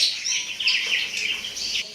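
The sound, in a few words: crow sitting at the window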